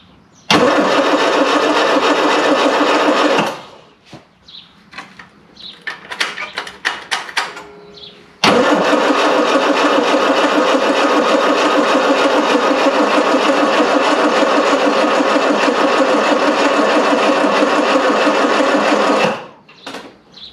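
Classic Mini van engine, off the road for 25 years, cranking with fuel in the carburettor bowl and trying to fire; a long loud starter whir, a stop with some clunks, then a second long cranking run.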